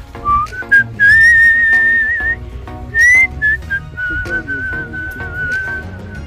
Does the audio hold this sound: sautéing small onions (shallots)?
no